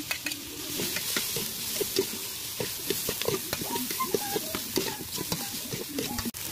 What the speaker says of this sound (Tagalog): Igisa muna natin guys bago natin tubigan.